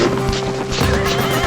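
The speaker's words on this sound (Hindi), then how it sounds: "तभी एक छोटा सा घोड़ा भागकर आता है" A small horse neighs loudly with hoof clip-clops as it runs, a continuous close whinny lasting the whole moment in a cartoon folk-tale scene.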